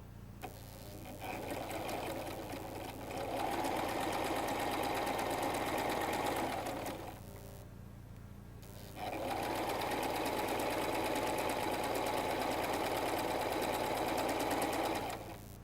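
Two stretches of continuous sewing machine stitching join extra cloth for a salwar, each several seconds long and separated by a brief pause, close and steady in tone.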